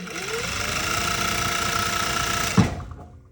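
A Merrow MG-3U overlock machine stitches the edge of a patch with a steady, fast mechanical whir and rattle that ends in a sharp clunk before stopping.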